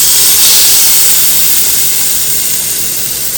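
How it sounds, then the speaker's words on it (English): Steady, loud hissing sizzle of meat searing in hot oil in an Instant Pot, a continuous broadband crackle with no talking. "That was a pretty nice sear, or sizzle."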